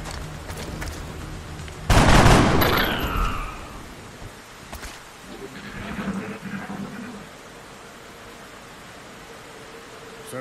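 Gunfire from the turn-based strategy game XCOM: Enemy Within erupts as a loud burst of shots around two seconds in, fading over the next second, followed by quieter rumbling game ambience.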